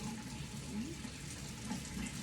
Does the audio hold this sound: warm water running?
yes